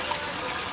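Strong, steady gush of water pouring from several opened household taps fed by a TSUNAMI CMS-IPC series home water pump, a continuous close hiss with no talk.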